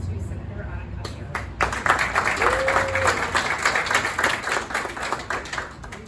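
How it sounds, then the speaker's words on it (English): An audience at a public meeting claps for a state senator, starting after a few sharp claps and swelling into steady applause that carries to the end. "please give a round of applause to Senator Ana Caballero"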